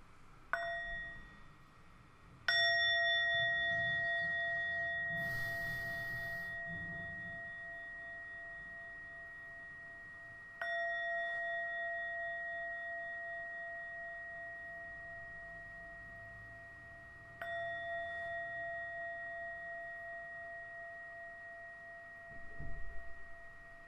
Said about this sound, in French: apprécier le son de la cloche.